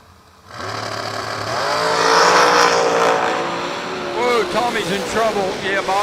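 A 06 dragster launches at a Delaware drag strip, its engine bursting in loud and building to a roaring peak, then easing off into revving bursts while a commentator talks over it.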